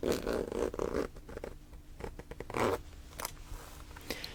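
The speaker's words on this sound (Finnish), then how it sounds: "Näissä on tosi kiva tää vetoketju. Helppo ottaa myös pois." A zipper on soft sports shoes is pulled open in short, quiet, close-up zips and rasps, with some faint handling rustle between the pulls.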